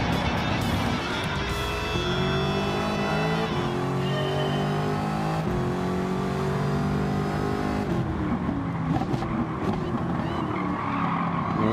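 A Chevrolet Camaro races in Gran Turismo 7, its engine note climbing and dropping through gear changes in a loud, continuous roar.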